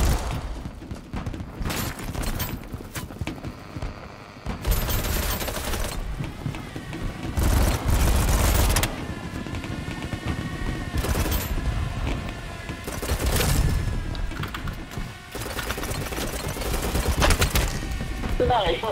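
Rapid bursts from a Kriss Vector SMG crack out in the online shooter BattleBit, loud clustered volleys separated by short pauses, with a voice speaking over parts of the firing.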